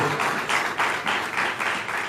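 A congregation claps in steady rhythm during a Sunday church service, a run of about seven evenly spaced bursts of hand claps, close and fairly loud with no speech over them.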